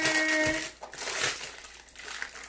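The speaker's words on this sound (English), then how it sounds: "You can open up the paper" A paper wrapper crinkles as it is opened from around a chilled date nut roll, a close, continuous rustle that surges and eases in bursts.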